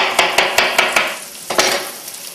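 Sliced button mushrooms sizzle in a pan while a utensil scrapes and taps against it in quick repeated strokes, then the stirring slows and fades.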